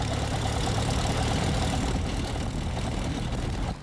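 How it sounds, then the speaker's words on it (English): A small plane's engine idles with a loud, steady rumble that holds evenly from start to finish, with no voices. "started the engine"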